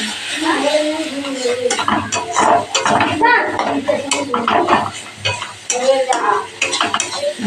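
Spice paste for a spicy bhola fish curry with brinjal is stirred and fried in a pan, with steady sizzling and scraping of a utensil against metal throughout, plus occasional clinks and some voices in the background.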